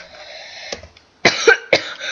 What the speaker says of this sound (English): Oh, why am I coughing loads today?